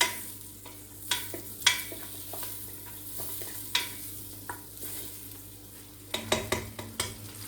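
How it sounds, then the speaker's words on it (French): Onions frying in melted butter in a pan give a soft, steady sizzle, broken by intermittent sharp clicks and scrapes of stirring and utensils, fairly quiet and close, with no talking. "quand le beurre est fondu, je vais mettre les oignons."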